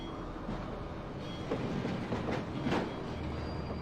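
Train rolling along in Hitman: Codename 47, a steady dense rumble with faint clicking of wheels over the rails, constant and fairly close throughout.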